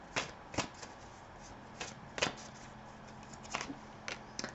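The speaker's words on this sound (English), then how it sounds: "So I'll pull 3 cards just to clarify this." Tarot cards shuffled and drawn from a deck, making several crisp riffling bursts spaced irregularly, close and fairly quiet, with no talk.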